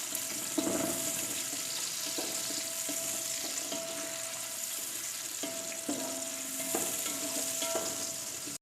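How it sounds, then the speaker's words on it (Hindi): Three large onions frying in half a cup of oil for beef yakhni pulao: a steady, close sizzle with repeated scraping stirs of a spoon in the pot. "अब हम डालेंगे इसमें 3 अदद बड़े साइज़ के प्याज। प्याज को हमने ब्राउन कर लेना है।"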